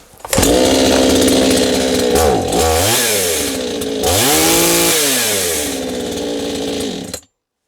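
A chainsaw engine that will not hold its revs roars up close, revving up and dropping twice before it suddenly cuts out.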